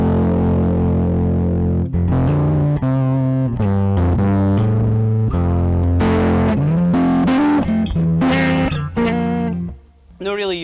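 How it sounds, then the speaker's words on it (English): Electric guitar through a JHS 424 Gain Stage pedal with the gain at maximum, a fuzzy, saturated run of riffs and bent notes played loud and close, ending with a brief dip and a short final strum. "If we want to go all the way at the top there, you'll hear that give like kind of just a bit of a fuzzy noise there as well."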